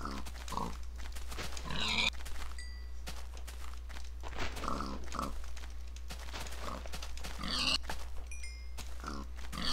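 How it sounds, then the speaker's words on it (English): Minecraft pigs grunt and oink again and again over a steady low hum from the game, mixed with the soft thuds of footsteps moving through the blocky world. "Whoa, lots of piggies."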